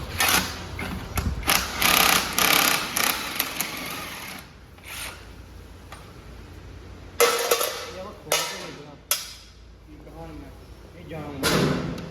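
A power tool loosens nuts on a rotavator gearbox in bursts of fast mechanical rattling, with clanks and knocks of metal parts between them. Someone talks over and between the bursts.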